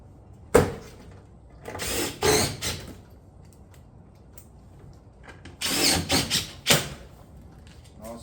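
Power drill driving fasteners into cottage-style shingle panels, two bursts of loud close whirring separated by quiet pauses, each run a second or more long, no talking.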